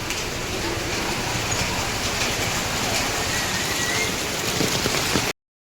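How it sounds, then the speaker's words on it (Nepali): Monsoon-season rain pours down steadily, a dense, even hiss of drops striking surfaces nearby that stays constant for over five seconds before cutting off abruptly. "के गर्नु हो पानी पर्छ बर्खामा"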